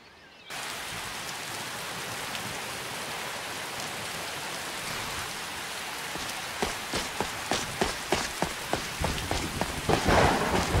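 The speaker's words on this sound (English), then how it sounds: "It rains a lot in Skyrim." Steady rain pours in Skyrim, a dense hiss that starts abruptly, then a string of sharp crackling thunder strikes builds toward a louder rumble at the end.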